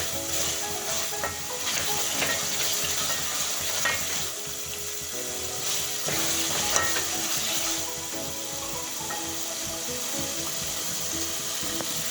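Egg biryani ingredients with coriander leaves and onions being mixed in a hot pan, a steady close sizzle of frying with scraping stir strokes and light clatter throughout.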